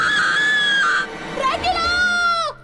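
A cartoon character in a Hindi children's animation lets out a long, shrill, high-pitched scream, followed by a shorter squealing cry that rises and then drops away, over busy background sound.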